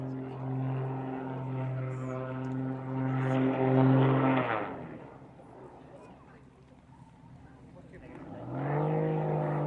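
A classic propeller aircraft performs aerobatics at a Shuttleworth Collection air show, its engine droning loudly with pitch rising into a climb, fading as it rolls and tail slides, then surging back.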